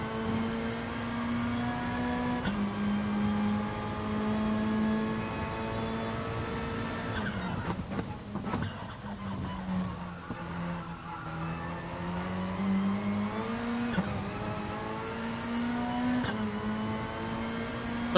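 A Gran Turismo Sport GR3 race car engine drones steadily through a practice lap, its pitch rising and falling with gear changes, with brief scrubbing noise from the tyres midway; no talking.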